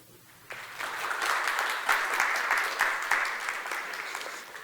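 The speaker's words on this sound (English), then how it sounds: "Thank you very much for this round of applause." Conference audience at the ICE Kraków Congress Centre breaking into applause, starting abruptly after a quiet moment and holding as a full, steady round of clapping from a large hall.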